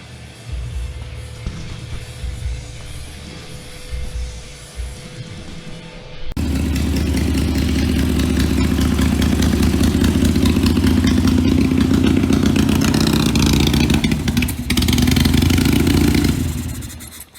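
A stock 2004 Harley-Davidson Sportster engine runs close by, settling into a steady, loud, throbbing idle with a slight clattering edge after a quieter start.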